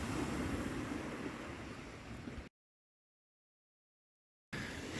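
Loud, churning sea waves and wind buffeting the microphone while a fish is reeled in on the Ligurian coast, the roar cutting out abruptly midway and returning at the end; no voices.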